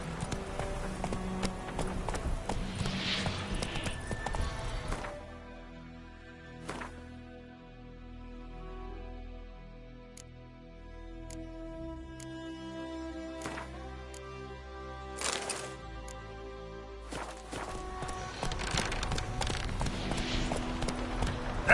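Hooves of Roach, a horse in The Witcher 3 video game, clip-clop at a steady gallop, loud at the start and end and softer through the middle, with music and game sounds alongside.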